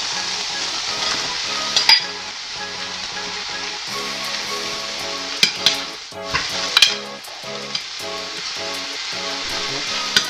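Pork sizzles and fries in a hot pan for sisig, a steady crackling hiss with spatula stirring and occasional scrapes and knocks against the pan throughout, close and fairly loud.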